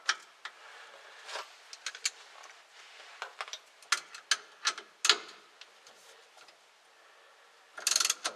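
Socket ratchet tightening a steering wheel puller on a 1966 Chevy C10, heard as a string of sharp, irregular metallic clicks and ticks at moderate distance, ending in a brief busier clatter.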